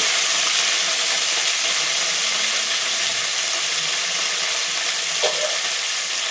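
Green chillies, curry leaves and coriander sizzle steadily in a frying pan of hot oil, a loud, continuous close-up hiss with one brief tap near the end.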